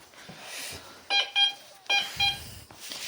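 A metal detector beeps in short electronic tones, several in quick succession, as it passes over a buried find in the ground outdoors; quiet rustling between the beeps and no clear talking.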